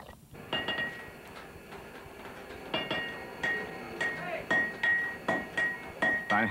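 A blacksmith hammers an iron bloom to drive out slag and form a bar of wrought iron: a steady series of sharp, ringing metallic strikes, about eight evenly spaced blows, fairly close and clear.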